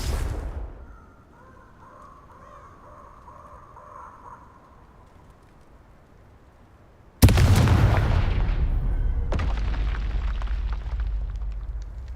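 A Confringo spell explosion in the Hogwarts Legacy video game: a short fading blast, a quiet stretch with faint ambient tones, then a sudden loud, close boom followed by sustained roaring rumble and a second impact.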